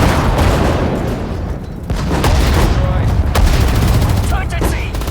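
Gunfire in the WWII strategy game Sudden Strike 4 during the Battle of Hurtgen Forest: dense, continuous rifle and machine-gun fusillades with sharp individual cracks and booms, loud throughout.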